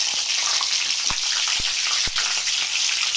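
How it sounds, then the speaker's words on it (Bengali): Cauliflower and potatoes fry together in hot white oil, a dense, steady sizzle with a few sharp pops and spatters cutting through, close and loud with no talking. "এবার আমি ফুলকপি আর আলু একসাথে ভেজে নেব।"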